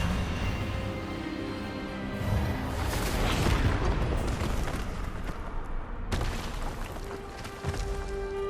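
The Expelliarmus spell effect in the game Hogwarts Legacy, a deep rumbling magical surge that swells and booms, then a sudden sharp crack near the end.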